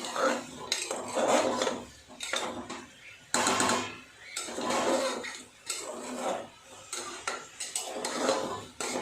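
A spoon stirs chicken stew cooked with butter in a pot, producing repeated clattering scrapes and knocks of metal against the pot in uneven bursts, fairly close, with no talk.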